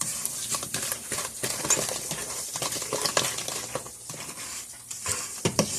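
Cookie batter being stirred by hand after one egg and a teaspoon of vanilla go in for chewy chocolate chip cookies, giving close, continuous wet scraping and stirring with small clinks against the bowl.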